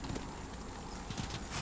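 A horse's hooves gallop in the Darksiders video game, a quick, faint, steady clip-clop over a dense background wash.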